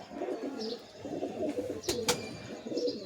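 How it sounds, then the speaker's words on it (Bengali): Pigeons with dark-ringed eyes cooing at a home loft, several soft low coos repeating over about three seconds at moderate distance, with two brief sharp clicks in the middle. "কালাঙ্কা চোখের পায়রা"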